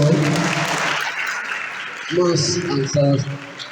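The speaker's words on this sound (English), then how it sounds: "Let's clap for them." Audience applause for student presenters at an entrepreneurship venture creation session, broad clapping filling the clip with a louder swell near the end, mixed with voices and crowd noise throughout.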